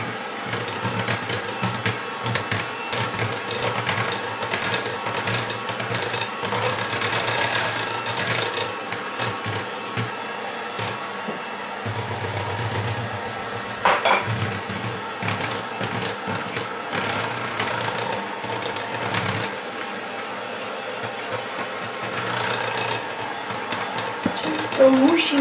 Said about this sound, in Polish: Cały czas mieszam.